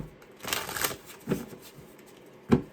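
A deck of cards is riffled and shuffled in a tarot-style reading, with a long rustling burst early on followed by two sharper snaps of cards, close and fairly loud.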